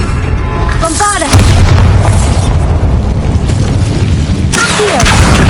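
An explosive blasting spell from a Harry Potter video game detonates with a heavy, loud boom, followed by rumbling and sweeping effects in a busy, close game mix.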